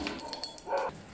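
A dog gives a few faint, quick barks and yips indoors, brief and somewhat distant.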